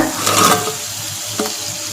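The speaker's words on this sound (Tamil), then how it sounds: "இப்போ இந்த டைமில் நம்ம பொரிச்சு வச்சுருக்க பன்னீரை சேர்த்துக்கலாங்க" Fried paneer cubes go into a pan of simmering masala, bringing a burst of bright sizzle and stirring that eases into a softer hiss, with one short clink near the end.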